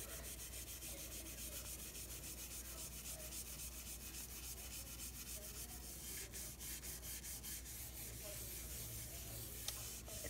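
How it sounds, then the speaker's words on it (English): A dollar-store soap pad scrubs a granite countertop, making a steady, quiet rubbing and scraping that continues without a break and without voices. "So, what you do is you start scrubbing."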